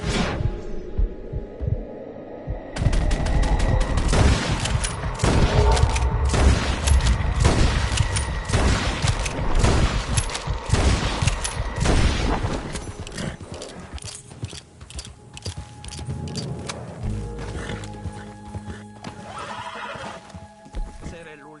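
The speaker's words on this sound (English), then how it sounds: "Damn good shooting, señor." Rapid gunshots ring out in a Red Dead Redemption 2 shootout, loud and close in a quick irregular string, mixed with horse whinnies and hoofbeats, then thinning out to quieter sounds as voices talk.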